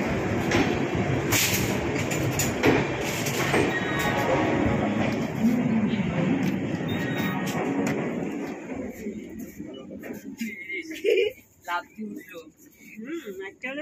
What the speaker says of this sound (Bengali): নির্ধারিত সময় মিথিলা এক্সপ্রেস হাওড়া স্টেশন থেকে ছাড়লো।